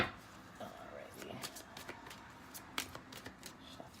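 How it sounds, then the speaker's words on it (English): Tarot cards being shuffled by hand for a reading, soft quiet riffling and flicking with scattered light taps, faint and close, with a bit of low background noise. "Shuffle up a little bit and then we'll cut the deck."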